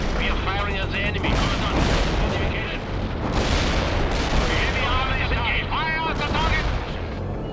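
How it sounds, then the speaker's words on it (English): Artillery fire and gunfire from the video game World in Conflict: continuous booming blasts and rattling bursts of shots that stay loud and close, with shouted radio-style voices cutting in over the barrage. "We are firing at the enemy."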